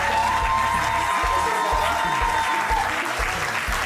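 Guests at a civil wedding ceremony applaud together, steady loud clapping from a modest crowd in a hall with a few faint cheers mixed in.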